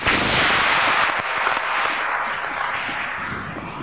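Model rocket liftoff, a loud broadband roaring whoosh that starts at full strength and slowly fades over several seconds, with no voices.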